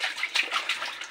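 Water in a tub sloshing and splashing softly as a pet soaks and moves in it, a quiet continuous patter of small splashes close by.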